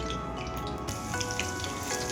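Cumin and mustard seeds sizzle in a small amount of hot oil on a gas stove, a steady close crackling hiss with scattered pops throughout.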